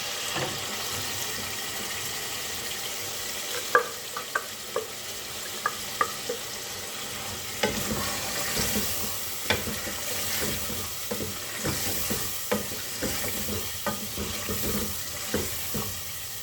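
Chicken qorma meat sizzling and frying in a pot with spice paste, stirred with scattered spoon scrapes and clinks over a steady hiss, close and moderately loud, no talking.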